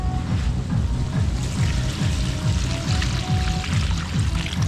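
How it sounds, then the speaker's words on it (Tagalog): Water pours steadily into a pot, a continuous gurgling splash with a rhythmic glugging pulse throughout, close and fairly loud. "So lalagyan na natin siya ng Tubig."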